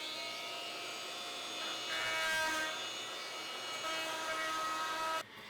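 A Multi-Master oscillating tool grinds old grout out of the joints around a bathtub, a loud, steady high-pitched buzz that shifts slightly as it bites, then cuts off near the end.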